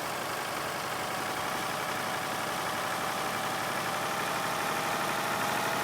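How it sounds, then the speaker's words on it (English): Tractor engine straining with wheel spin in Farming Simulator 22, a steady, loud, continuous roar with broadband hiss and no pauses, heard alone without talk. "Come on tractor, you got this."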